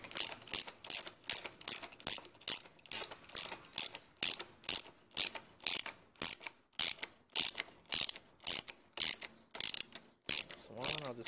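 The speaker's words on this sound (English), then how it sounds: "so here I am tightening the port cap back on" A hand ratchet tightens a fork cap on a Kawasaki KX100/KX85 dirt bike during a fork spring install, giving about two dozen sharp, evenly spaced clicking strokes, close and crisp, with no talking.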